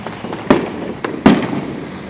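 Fourth of July fireworks set off by a neighbor in Portage, Indiana burst at moderate distance, with three sharp booms and a few softer pops spread over two seconds against faint outdoor background.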